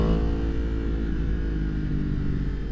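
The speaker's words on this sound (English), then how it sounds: "I'll stop talking for a minute so you can hear the motor a little bit better" A 2023 Yamaha MT-10 fitted with a Leo Vince slip-on exhaust drones steadily and loudly close by, a rich even engine tone held at a constant pace with no voices over it.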